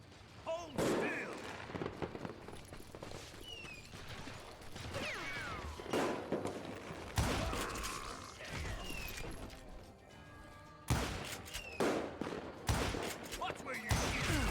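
Gunfire from the Western shooter Call of Juarez: Gunslinger: several loud, sharp shot bursts spaced irregularly across the stretch, mixed with game effects and background clatter.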